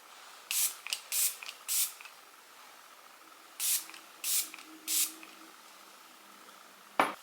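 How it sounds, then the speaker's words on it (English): Makeup setting spray misted in short, close hissy bursts: a quick group of three or four sprays, a pause, then another three, followed by a faint tap at the end, in a quiet room. "I always have to like test spray."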